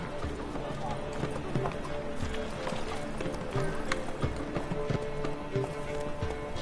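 Roach, the horse in the video game The Witcher, gallops in a fast, steady clip-clop rhythm that runs the whole time, heard under game music and ambience.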